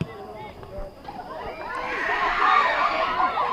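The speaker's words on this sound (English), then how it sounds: "Teddy's got quite the cheering section here as the girls are screaming for him here." At a boys' varsity soccer match, girls in a crowd cheer and scream for a player. The cheering rises from distant chatter into a louder, sustained shrill cheer, and a nearby voice talks over it.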